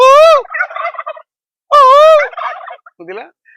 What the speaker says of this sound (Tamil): இந்த மாதிரி வான்கோழி இருக்கிற இடத்துல கூவும் கூவுனா அது சேர்ந்து